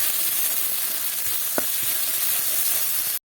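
Ginger paste fries in a pan with a steady, close sizzling hiss that holds throughout, marked by one brief clink, then cuts off abruptly.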